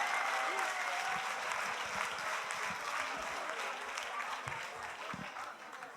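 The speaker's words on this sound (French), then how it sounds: "une bonne main d'applaudissements pour le coup de cœur de la soirée." Audience at a secondary school show final applauding, a sustained burst of many hands clapping that slowly fades, with scattered voices under it.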